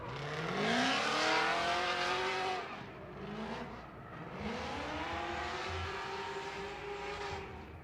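Supercharged Nissan 350Z drifting on Hankook tires at a night Formula Drift round in Las Vegas, its engine roaring and revving hard with rising and falling pitch sweeps, loud and close, dipping briefly before climbing again.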